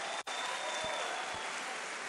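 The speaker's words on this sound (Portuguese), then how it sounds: "Uma salva de palmas." An audience at a talk gives a round of applause, a dense, even clatter of many hands that fills the short clip after a brief dip at the start.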